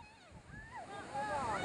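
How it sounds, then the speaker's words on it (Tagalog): Waves surge and wash steadily around a boat at sea on a lobster-hunting trip, with wind noise and voices talking over the watery rumble. "Ayun na, may alon."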